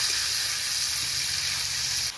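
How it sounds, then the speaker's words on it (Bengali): Eggplant pieces frying in hot mustard oil in a kadai beside hilsa fish, making a continuous close sizzle that stays even and dense, then drops slightly at the very end. "তেলের মধ্যে হালকা ভাবে গড়িয়ে নিয়ে এক সাইডে বেগুনের পিসগুলো দেবো।"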